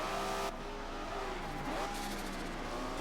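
A Ferrari race car engine in the Forza racing game drones at high revs, its pitch sweeping up and down through gear changes in a short, steady burst.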